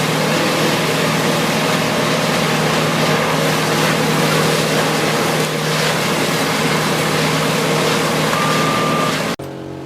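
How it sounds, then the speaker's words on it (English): A WC2300XL wood chipper shredding a large log, a loud continuous droning engine roar with grinding texture that holds steady before cutting off abruptly near the end. "The wood chipping machine is working powerfully, its sharp blades spinning rapidly to shred the large log fed into it."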